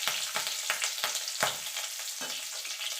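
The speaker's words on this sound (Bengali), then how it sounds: "এবার ফোড়নটা একটুখানি ভাজা ভাজা করে নেব" A tempering of nigella seeds and slit green chillies fries in hot oil, a close, steady sizzle punctuated by sharp pops and crackles at irregular intervals.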